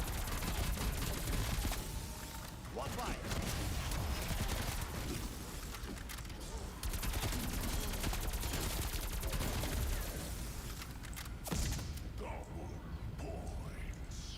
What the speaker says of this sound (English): Dude, this AK is shredding